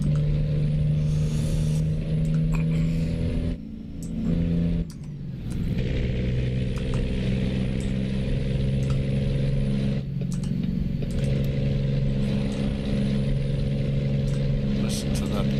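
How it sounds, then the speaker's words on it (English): Cummins truck engine in American Truck Simulator drones steadily with a low, tonal hum, broken by two brief dips and a short gap around mid-clip, while someone talks over it. "Listen to that Cummins engine."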